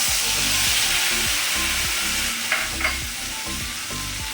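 Ginger paste fries in hot oil in a pan, loud steady sizzling over a spice tempering, with two brief clatters of stirring near the end.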